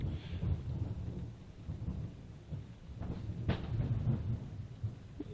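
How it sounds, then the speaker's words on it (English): Thunder rumbles through a December thunderstorm, low rolling booms rising and falling over a steady wash of rain, with one sharper crack midway, moderately distant and without voices. "Ooh, we got some thunder."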